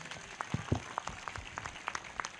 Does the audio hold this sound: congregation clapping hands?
yes